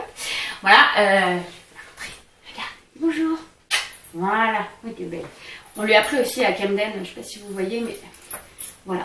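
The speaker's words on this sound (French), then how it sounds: "C'est un chien pirate." A small dog wearing a skull-print bandana whimpers, yips and barks in short bursts while someone talks over it in French.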